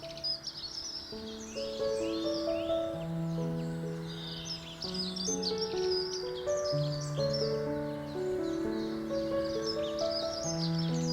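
Birdsong in a quiet garden corner, with several birds chirping and trilling in quick overlapping phrases throughout, set over a steady background of soft sustained musical tones.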